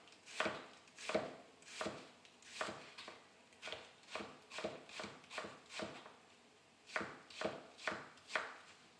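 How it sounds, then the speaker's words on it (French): A knife finely slicing onions on a cutting board for pissaladière, a steady run of about fifteen crisp, close chops in quick rhythm with one short pause midway. "là je viens émincer mes oignons finement"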